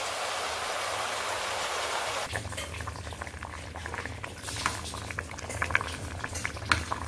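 Jaggery syrup for mango pachadi boils in a pan, starting as a soft hiss and then breaking into dense, close bubbling and popping that continues steadily.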